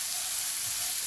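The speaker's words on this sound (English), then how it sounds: "Just cook your garlic a little bit so it's not raw." Garlic cooks in oil with sesame seeds and mustard seeds over low heat, giving a close, even frying hiss that stays level and unbroken.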